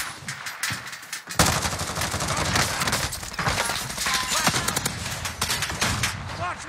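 Sustained bursts of rapid gunfire erupt after a brief quiet start, dense, loud and close, with overlapping shots rattling continuously to the end.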